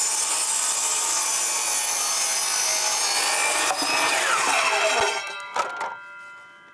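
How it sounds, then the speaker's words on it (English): Saw cutting angled cuts through wood for DIY car ramps, a loud sustained rasping cut that ends with a few clatters as the blade finishes and winds down. "For these angled cuts, I'm just going all the way over as far as my saw will go"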